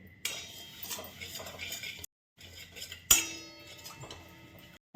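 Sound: stirring and roasting sesame seeds in a pan

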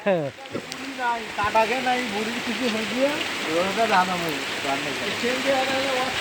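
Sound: heavy rain at night on a village road

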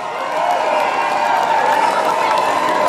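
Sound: audience applause after a live band performance

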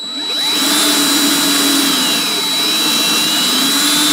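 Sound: power tool reaming a small engine valve guide

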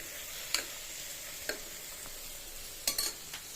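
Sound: food frying lightly in oil

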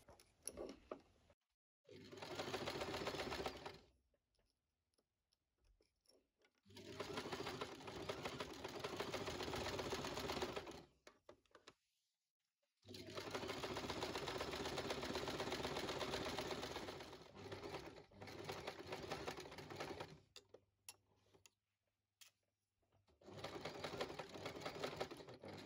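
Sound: sewing machine stitching the hem of a lace dress

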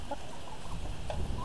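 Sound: rooster clucking

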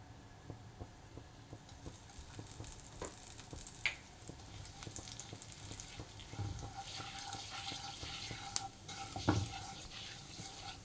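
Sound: cumin seeds sizzling in hot oil

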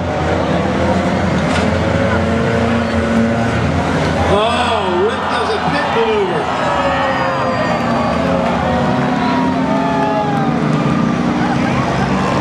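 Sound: race cars on a racing track

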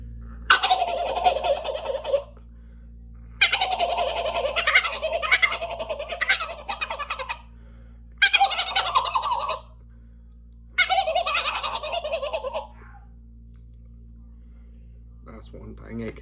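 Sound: turkey gobble imitated on a stacked frame turkey call

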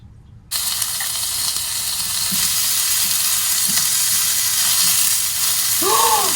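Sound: beef skirt meat sizzling as it cooks

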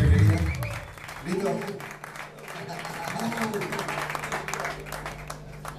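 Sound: audience applause

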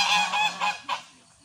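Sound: geese honking

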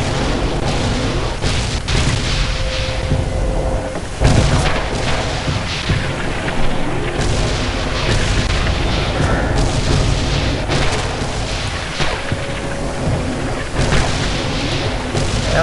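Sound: mortar fire explosions in video game Red Orchestra 2

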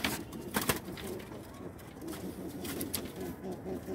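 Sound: pigeons cooing

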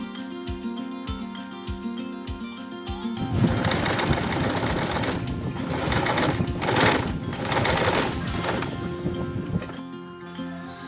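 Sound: sewing machine stitching patchwork pillowcase pieces

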